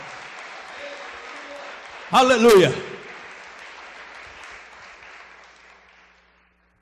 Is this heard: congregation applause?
yes